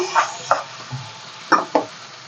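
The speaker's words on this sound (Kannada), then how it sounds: "ಈರುಳ್ಳಿ ಚೆನ್ನಾಗಿ ಫ್ರೈ ಆಗಲಿ" Onions frying in oil in a pan with fennel, a couple of cloves and cinnamon for an egg curry: a soft, steady sizzle broken by five scraping stir strokes, close and moderately loud, with no talking.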